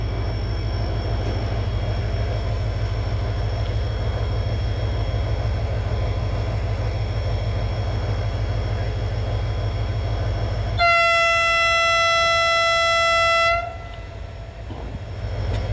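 Bahauddin Zakariya passenger train departing Bahawalpur railway station in Pakistan, a loud steady rumble of the locomotive and rolling cars, then a long multi-tone horn blast near the end before the sound eases.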